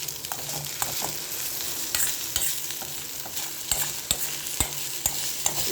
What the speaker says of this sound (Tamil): இப்போ இதை வந்து நம்ம இப்படியே கிண்டி விடுறோம்